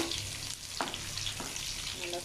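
Finely chopped garlic sizzling in hot oil in a pan for paneer masala, a steady crackling fry with a couple of brief stirring scrapes, close and even throughout.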